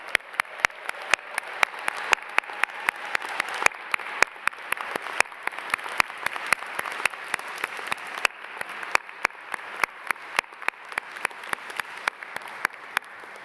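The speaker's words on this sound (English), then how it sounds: "So please, another round of applause for our graduates" A commencement audience applauds the graduates with a continuous patter of many hands, moderately loud, with sharp individual claps standing out near the microphone throughout.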